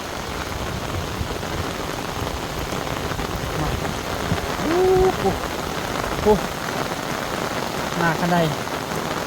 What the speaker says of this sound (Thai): อันนี้ฝนตก